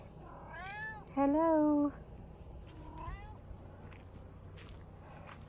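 A domestic cat meows several times up close: a short call, then one loud drawn-out meow, then softer meows, with a person briefly speaking over quiet background.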